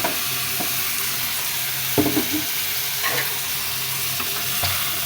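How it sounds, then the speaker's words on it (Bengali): Fish bhuna gently stirred in a frying pan, a continuous soft sizzle broken by a few distinct scraping stirs, close and without talking. "আলতো করে একটু নেড়ে দিলাম"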